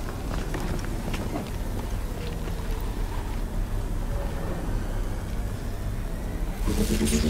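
A skiff engine revs steadily in Guardians of the Galaxy, a continuous rumbling drone with rough mechanical flutter that holds at a constant level and swells slightly toward the end.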